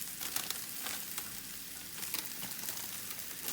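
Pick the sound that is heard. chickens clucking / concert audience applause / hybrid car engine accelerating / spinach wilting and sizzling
spinach wilting and sizzling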